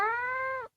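A cat gives a single loud, close meow, a sustained clear tone lasting just over half a second before cutting off abruptly.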